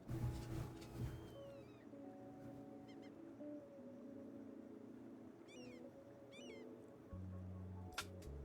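Pet cat in a quiet room letting out several short, faint meows spaced a few seconds apart over a low steady hum, with a soft thump near the end.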